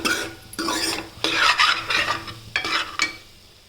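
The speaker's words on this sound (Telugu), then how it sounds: "రైస్ అందులోకి వేసి బాగా మిక్స్ చేసుకుందాం" Rice being mixed into fried egg in a pan, with a spatula scraping and tossing in several distinct strokes over a light sizzle, close and clear with no talking.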